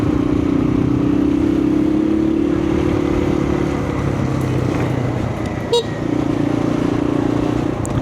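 Road traffic during a typhoon on the road from Apalit to San Fernando, cars and motorcycles passing close with a steady engine drone, a motorcycle revving and a brief horn toot mid-way.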